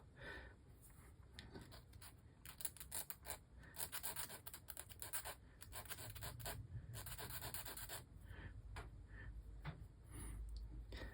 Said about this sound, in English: It all takes a few rubs of the file to get rid of it.